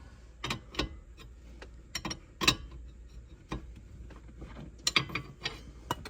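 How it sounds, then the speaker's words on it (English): Ratchet tightening a bolt during a C5-C6 Corvette TBM front brake kit install, heard as a handful of sharp, separate clicking bursts with quiet gaps between them, close by and alone. "You can get in here and kind of do a nice little cinch that bolt down a little bit more."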